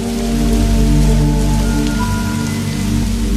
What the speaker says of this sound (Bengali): কথাটা ভাবতে না ভাবতেই ঝমঝম করে শুরু হলো মুষলধারে বৃষ্টি।